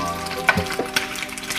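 Bacon frying in a pan at breakfast, a steady soft sizzle with a few louder pops and spatters scattered through, heard close with no talking.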